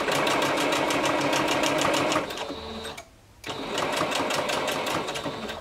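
A sewing machine stitches fabric for a bodysuit, its needle pounding in a fast, even rhythm, briefly slowing and pausing before running steadily again at close range.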